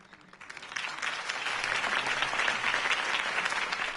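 Crowd applause in a Batman video game bursts out, clapping building quickly from a soft start to a steady, dense roar that carries on without talk.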